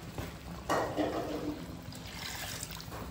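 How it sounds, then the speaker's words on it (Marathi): Water swished from a mixer jar to rinse out leftover ground masala is poured into simmering mutton curry for a Sunday mutton thali, a soft trickling splash rising briefly and fading, close by with no voices. "मिक्सरमध्ये जे मसाला होता उरलेला तो पण आपण अशा प्रकारे धुवून घेत आहोत भांडं आणि ते पाणी याच्यात टाकत आहोत"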